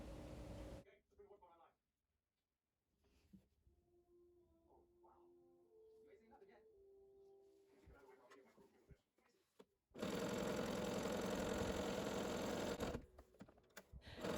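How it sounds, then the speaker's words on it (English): A home sewing machine runs a zigzag stitch over the raw fabric edges of a holiday pillowcase seam, a loud, steady mechanical whir near the end after quieter handling sounds. "now I have the zigzag stitch on my machine, and I am just going over those raw edges to finish the seams up"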